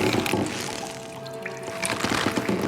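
A waterfall in the video game Tomb Raider pours in a steady, loud broadband rush of falling water, continuous and close throughout.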